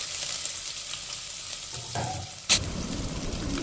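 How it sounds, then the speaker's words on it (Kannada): Onions hit hot oil already crackling with cumin seeds and curry leaves, giving a sharp hiss and burst of sizzling about midway, and then the frying continues steadily up close for a lentil and okra sambar. "ಈರುಳ್ಳಿ ಹಾಕ್ತಾಯಿದ್ದೀನಿ"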